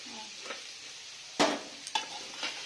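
Potato and cauliflower pieces sizzle and fry in a pan with a steady hiss, broken by a few louder stirring scrapes near the middle and toward the end.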